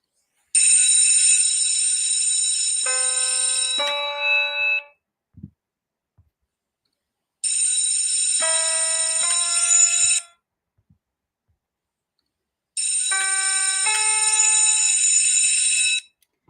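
Three bursts of bright, ringing electronic keyboard tones, each a sustained bell-like chord stepping down, imitating a school bell, separated by short silences.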